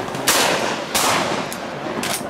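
Shotgun blasts fired at ducks during a waterfowl hunt, three or four loud sharp reports spaced irregularly about half a second to a second apart, each with a broad booming tail, close by.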